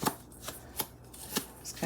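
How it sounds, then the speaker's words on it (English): A plastic spoon quickly mixes onion powder, basil and black pepper in a bowl, making soft rhythmic scraping taps, about four light strokes at regular intervals, close and quiet. "Just kind of mix the seasonings in real quick."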